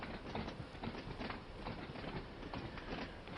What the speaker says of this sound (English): You got all like the clatteriness of the wheels on the tracks and stuff